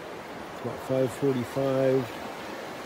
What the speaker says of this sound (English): We are right by a creek.